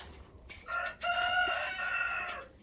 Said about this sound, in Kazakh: Тауықтарға барайын.